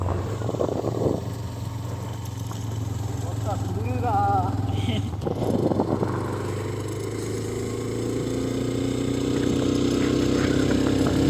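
Motorcycle engine pulling steadily up the hill road to Kodaikanal, a continuous low drone that holds through the whole stretch with slight rises in pitch, while a rider talks over it.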